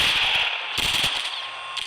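Rapid gunfire in a zombie video game, bursts of quick shots with brief gaps between them, loud and up front with no talking over it.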